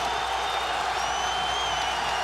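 Basketball arena crowd at a Tennessee vs. Kansas college game, a steady dense roar of cheering and applause with no breaks, fairly loud and continuous, with faint whistle-like tones riding on top.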